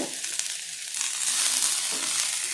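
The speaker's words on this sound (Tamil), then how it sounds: "இப்போ போட்டு கொஞ்சம் வதக்கி எடுத்துக்கலாம் வெங்காயத்தை வதக்கி" Onions sautéing in a pan, a close, continuous frying sizzle with a soft scrape or two, no voices.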